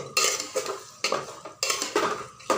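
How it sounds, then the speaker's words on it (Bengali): Handi mutton stirred in a pot after the lid comes off gives about six scraping, clattering strokes of a utensil against the pot, close and rhythmic, over a faint sizzle. "তো আমি ঢাকনা খুলে দেখছি, আবার একটু নাড়াচাড়া করে নিব।"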